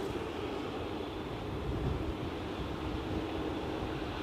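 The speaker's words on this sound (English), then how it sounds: "it's a fine example of an Embraer 190 long range operated by German Airways" An Embraer 190 jet airliner operated by German Airways for KLM at Aberdeen airport gives a steady, broad engine roar at a distance, constant and even throughout, with no speech.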